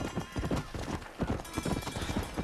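Horse hooves clip-clop in the video game Red Dead Redemption, a close, brisk, rhythmic trot of sharp thuds with a brief whinny mixed in and faint talk underneath.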